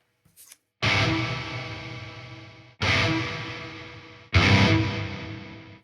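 Three loud distorted guitar strums through a rectifier amp sim plugin, each ringing out with a long reverb and delay tail, heavily processed with effects.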